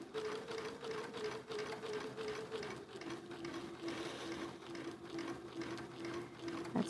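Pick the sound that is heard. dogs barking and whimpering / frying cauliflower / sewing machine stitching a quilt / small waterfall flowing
sewing machine stitching a quilt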